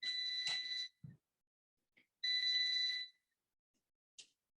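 Two long, high electronic beeps from an air fryer, separated by a pause, with a few faint clicks in the quiet between.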